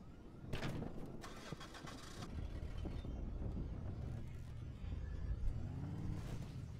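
In the video game Dead Island, a car engine cranks with a couple of sharp bursts, then catches and settles into a steady rumbling idle, with a brief rise in revs near the end.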